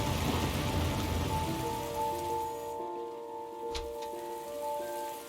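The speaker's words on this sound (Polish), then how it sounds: "Pada deszcz." Steady rain falls on surfaces in the video game Heavy Rain, a soft constant patter at moderate distance, joined by a few sustained synth tones of soundtrack music.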